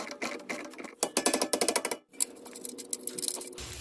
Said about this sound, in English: we'll snug up this two nuts right here, 19 mil sockets on both ends